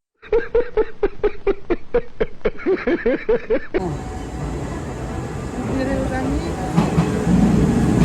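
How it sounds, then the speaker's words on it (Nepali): A rapid run of rhythmic tonal pulses gives way to a loud, steady rumble and hiss as a rapid express bound for Nara pulls into the station at track 1, growing fuller toward the end. "A rapid express bound for Nara is arriving at track 1"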